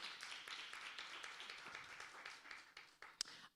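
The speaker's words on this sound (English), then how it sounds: "Give them a big round of applause." Audience applause for a panel walking out at a fireside chat, a dense patter of many hands clapping at moderate distance, fading out after about three seconds with a few final scattered claps.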